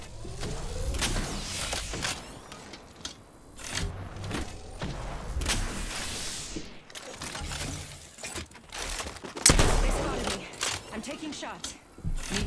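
Rapid bursts of video game gunfire during a shootout, sharp cracks and crunching impacts scattered throughout with a louder blast near the end, under a player's intermittent voice.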